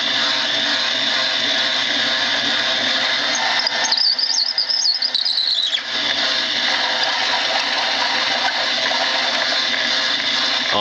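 A rifle case prep station cleaning the mouths of 45-70 brass cases sends out a loud, steady motorized whir that shifts pitch briefly partway through, then carries on to the end.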